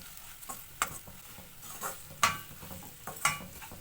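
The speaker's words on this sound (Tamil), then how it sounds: "இந்த மிளகாயை எண்ணெயில் நல்லா வறுத்துக்குவோம்." Red chilies frying in oil for mutton varuval: a soft, steady sizzle with several sharp spatter pops and light utensil clicks, close but fairly quiet.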